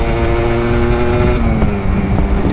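A two-stroke Aprilia RS 125 sport motorcycle engine revs steadily and loudly at high rpm, its buzzing tone holding and shifting slightly in pitch throughout, with no talk over it.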